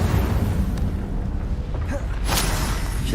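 Incendio fire spell cast in the Hogwarts Legacy video game, a loud, dense roaring burst with a rumbling low end and a brighter crackling flare near the end, no voices.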